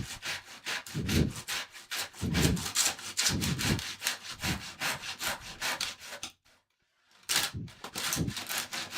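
A handsaw cuts through splintered wood clamped in a vise, rasping in quick back-and-forth strokes up close, then pausing briefly before a few more strokes resume.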